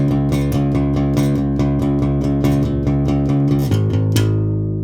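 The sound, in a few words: bass guitar playing a riff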